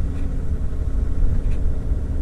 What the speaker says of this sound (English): and that's your exhaust brake